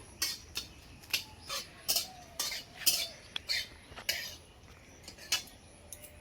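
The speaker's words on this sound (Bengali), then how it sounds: "ভালো করে নেড়ে চেড়ে দিচ্ছি।" Whole spices (bay leaf, cardamom, cinnamon, dried chilli and cumin) are stirred in a pot, a spoon clinking and scraping against the metal in a dozen sharp, irregular strokes, close and without talk.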